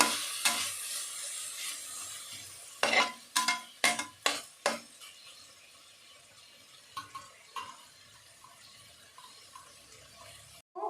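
Ripe tomato sautéing with salt in a pan for coconut rice, a steady soft sizzle throughout with a cluster of sharp stirring scrapes near the start and a few lighter ones later, close and quiet.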